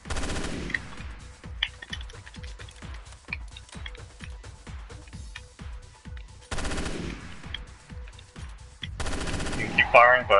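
Automatic gunfire crackles in rapid bursts in the video game Resident Evil Revelations 2, with two long sustained volleys of dense, evenly spaced shots and a brief pause between them.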